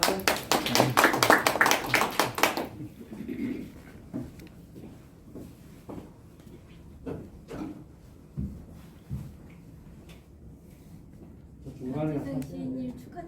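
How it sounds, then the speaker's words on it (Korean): A burst of enthusiastic audience applause at a poetry book launch, lasting a few seconds and then giving way to a quiet room with scattered taps, shuffling and a speaking voice. "박수 부탁드립니다."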